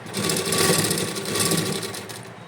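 A sewing machine runs continuously at high speed, stitching a doormat made from old leggings, producing a close, loud, steady whirring buzz of rapid needle strokes.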